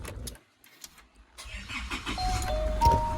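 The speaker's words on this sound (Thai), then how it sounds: "มาสตาร์ท อันนี้นะคะได้มีเป็นแบบปุ่มพุชสตาร์ทนะคะตรงนี้นะ" An Isuzu Mu-X 3.0 4WD SUV engine cranks and starts up by push button, then settles into a steady rumbling idle close by, with a faint chime tone on top.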